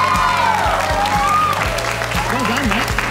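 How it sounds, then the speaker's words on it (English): An audience applauds for music teacher CJ Shaw, an ARIA award nominee, with dense steady clapping and some cheering throughout, while music plays underneath. "let's give Mr. Shaw a big round of applause"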